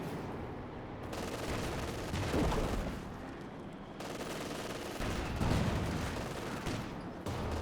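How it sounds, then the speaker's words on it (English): Battle noise from a Company of Heroes 2 match, with a British 6-pounder anti-tank gun firing among dense gunfire and explosions. Sharp, booming reports keep breaking through a loud, continuous din, and no one speaks. "Good 6-pounder shot there."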